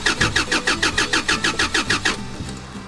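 A car engine cranks over and over in a steady, rapid rhythm of about a dozen loud starter pulses, then stops without catching, leaving only faint background hum.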